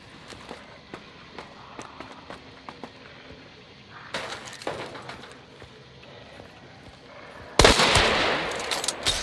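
Gunfire in the video game Hunt: Showdown, with scattered clicks and thuds giving way to a sharp report near four seconds and a loud, dense burst of shooting at the end.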